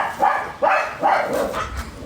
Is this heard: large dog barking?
yes